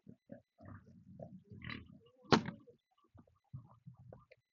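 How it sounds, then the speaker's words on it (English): A small pig on a ranch grunts in short, low bursts, close by, with irregular snuffling and a few louder snorts amid light knocking noises. "It's kind of nice, that little pig."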